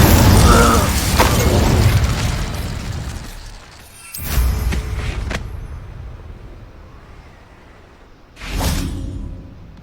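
A fire spell cast in Hogwarts Legacy bursts out as a loud whooshing blast amid busy game effects, with two shorter flaring bursts following a few seconds apart, one near the middle and one near the end.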